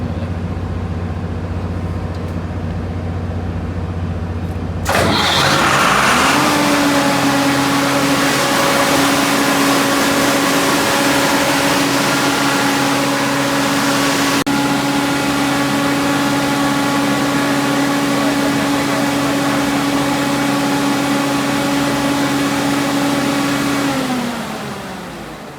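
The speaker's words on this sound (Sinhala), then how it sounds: "emergency diesel generator" A ship's emergency diesel generator cranks on battery start, catches and runs up to a loud, steady mid-pitched drone with a clear whine held for about twenty seconds before it begins to wind down.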